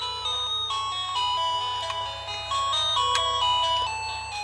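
Chiptune melody of bright, beeping square-wave tones from a used Game Boy Pocket, steady and close, playing a looping tune with no voices.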